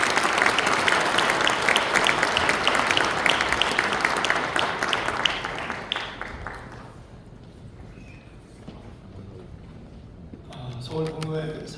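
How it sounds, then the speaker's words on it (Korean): Audience applause for a pastors' seminar organizer, dense clapping from a large crowd of around 400 that fades out about halfway, leaving quiet room noise before a voice starts speaking. "격려의 박수를 부탁드립니다"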